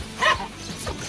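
A dog gives a single short yappy bark outdoors while trying to catch water spraying from a garden hose, with light background noise after it.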